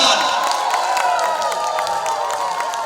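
Steady crowd applause at a Ganesh Puja silver jubilee ceremony in Santabahal club, a continuous wash of clapping with cheering and a faint amplified voice underneath.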